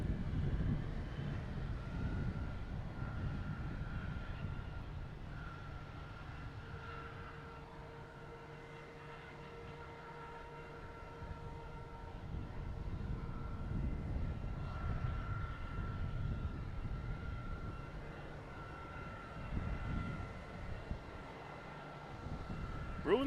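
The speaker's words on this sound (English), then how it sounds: "Coming in from Columbus, E175," An Embraer E175 airliner arriving from Columbus at Boston Logan Airport: a distant, sustained low jet roar with faint tonal whine that swells and fades over about twenty seconds, under outdoor wind noise, with no voices.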